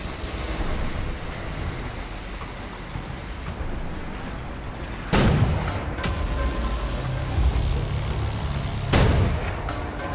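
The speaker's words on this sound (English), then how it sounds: "there's one more cannon further up still firing at that bird" Cannon fire in the video game Wolfenstein: The New Order: two heavy, sharp booms about four seconds apart rise above a continuous rumbling battle backdrop, with no speech.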